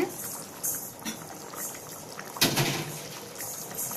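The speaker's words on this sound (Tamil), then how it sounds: "நல்லா கொதிக்குதுங்க." Curry bubbling in a covered pot, a soft, continuous simmer with gentle liquid pops and one sharper clink partway through, fairly quiet and close.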